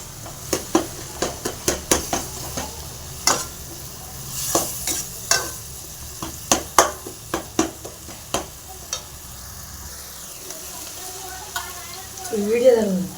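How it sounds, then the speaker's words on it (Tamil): A ladle scrapes and clacks again and again against a pan as tomatoes and onions sauté for chicken curry, irregular sharp strikes over a soft sizzle, with a brief voice near the end. "தக்காளி வெங்காயம்லாம் நல்லா வதங்கணும்"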